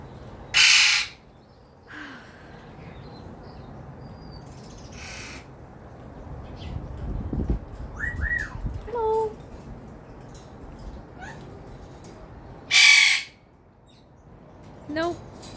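Eclectus parrots squawk loudly outdoors as rain begins before a storm, with two piercing calls standing out and softer chirps and chatter between them.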